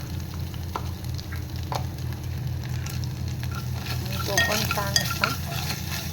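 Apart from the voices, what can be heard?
asafoetida tempering sautéed in ghee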